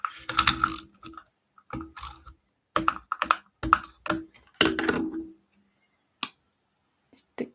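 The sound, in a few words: applying double-sided tape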